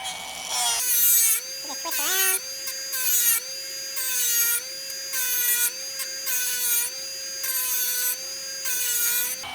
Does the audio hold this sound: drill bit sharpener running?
yes